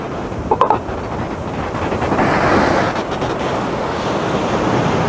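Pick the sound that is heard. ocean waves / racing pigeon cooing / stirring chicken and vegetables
ocean waves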